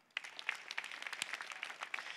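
An audience claps at a Santa Clara County community gathering, a quiet, fairly distant patter of many hands that starts abruptly and continues evenly to the end.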